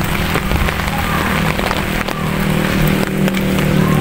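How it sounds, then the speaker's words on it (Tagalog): Heavy rain pours down on a rural farm area in a steady, loud, dense hiss of drops striking the ground and other surfaces, continuous from start to finish with no speech. "Sobrang lakas ng ulan, guys."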